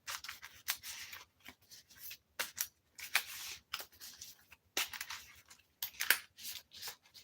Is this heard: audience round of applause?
no